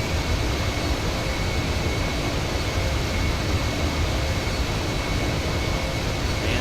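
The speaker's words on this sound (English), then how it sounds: "Here we go, taxiing to gate 1." An airplane taxiing to the gate in Grand Theft Auto 5, a loud, steady jet engine roar with broadband rumble that holds constant the whole time, no voices.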